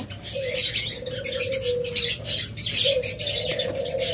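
Pet birds call in a bird shop: repeated bright chirps and tweets overlap a soft, sustained cooing from a dove, fairly close and continuous.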